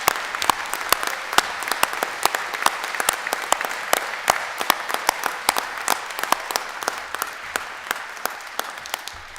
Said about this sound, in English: I'll not have the opportunity to give you a round of applause, but I'll do that now